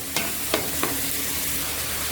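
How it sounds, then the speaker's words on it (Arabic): Onions fry in a pan while a utensil stirs them, giving four distinct scraping knocks over a continuous close, hissing sizzle. "هقلب البصل معايا لحد ما يدبل وياخد لون ذهبي خفيف فاتح كده"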